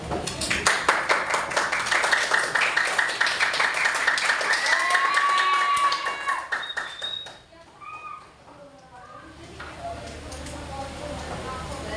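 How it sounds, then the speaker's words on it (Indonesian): Classroom applause from students after a group presentation, a dense patter of clapping for several seconds that fades around the midpoint, with voices and chatter continuing under and after it. "Tepuk tangan dulu."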